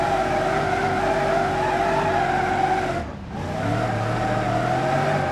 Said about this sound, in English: I'm now taking this Bastion drift car here up and down this set of mountain roads.